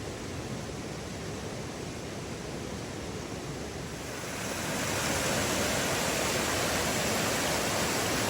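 Pigpen Falls on the Foothills Trail roars as a steady, broadband rush of falling water that swells louder midway and then holds at full strength, with no voices.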